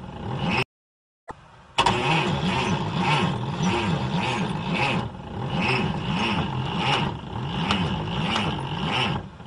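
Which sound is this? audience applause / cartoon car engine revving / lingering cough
cartoon car engine revving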